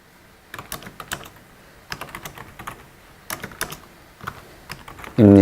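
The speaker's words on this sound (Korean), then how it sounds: "이렇게 컨트롤 O 엔터 하고 실행하면" Keys on a computer keyboard are tapped to enter a Ctrl+O shortcut and Enter, sharp close clicks arriving in quick clusters with brief gaps between them.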